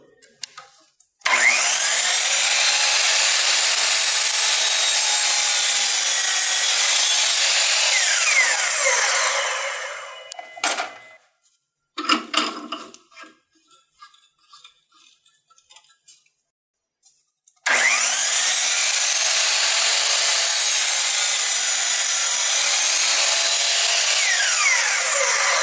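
A power saw cutting through 2x4 wooden boards for a mobile workbench, two long loud steady cuts separated by a pause with a few clatters and knocks of handled wood, no talking.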